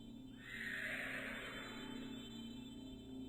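A person vocally imitates a horse neighing, a single drawn-out whinny that rises and then trails off, fairly close and alone over a steady background hum.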